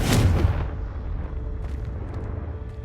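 A Confringo fire spell explodes in Hogwarts Legacy, a heavy, booming blast at the start that fades into a long low rumble. Faint crackles sit under the decay.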